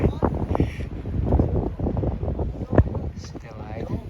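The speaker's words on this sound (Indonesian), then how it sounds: "Ini anginnya kenceng banget, parah." Strong, cold wind buffets the microphone on the summit trail of Mount Papandayan before dawn, roaring in uneven gusts while a person talks over it.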